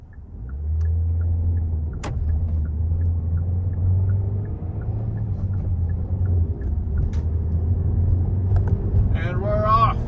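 A 2021 Kia Soul with a manual transmission drives along, its engine a steady low drone with road rumble and a faint rhythmic ticking inside the cabin, and the pitch shifts as it goes into third gear.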